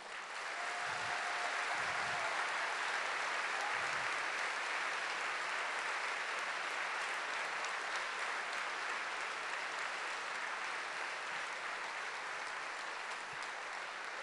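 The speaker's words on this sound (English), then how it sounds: "I'd like to all of you to once again give a really big round of applause" A concert audience at the Festival of India gives a long, dense round of applause, a steady roar of clapping from a large crowd with a few low thumps near the start.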